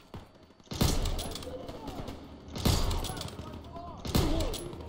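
Gunfire from the World War II shooter Call of Duty WWII comes in three loud bursts of rapid shots, each followed by a decaying rumble, with quieter game ambience between them.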